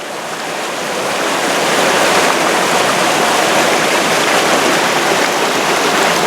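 Loud, steady rush of river water flowing at the San Gabriel waterfalls, a dense continuous roar that swells slightly in the first seconds and then holds constant, close by and with no voices.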